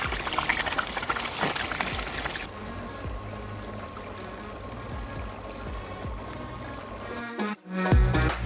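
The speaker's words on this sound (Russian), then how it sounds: "Заполняем нашу систему водой" Water pours and gurgles steadily into a hydro-drilling rig for an Abyssinian well, with a mechanical rumble underneath, close by, ending in a few sharp clunks and splashes.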